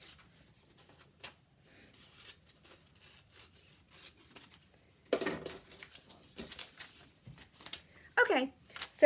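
Paper scissors cut through paper pattern pieces in a quiet rhythm of soft snips and rasps, growing louder and sharper toward the end, with a voice heard talking.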